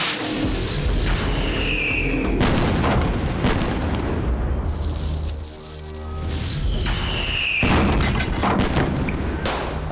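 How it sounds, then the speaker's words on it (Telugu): Firecrackers burst in a dense, continuous barrage during a village festival scene in an action-thriller film, loud crackling explosions overlapping with only a brief dip midway. "టపాకాయలు చప్పుడురా,"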